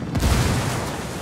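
Frag grenade explosion in Ghost Recon Wildlands, one loud close blast with a deep low thump that rolls into a dense rumbling decay, no talk.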